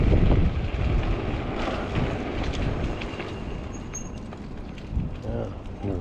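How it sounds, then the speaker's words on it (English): Wind buffets the microphone during a ride on a 20-inch folding fat-tire e-bike along a city bike route. A continuous rumbling roar rises and falls throughout, loud and close. "Oh, that wind is blowing."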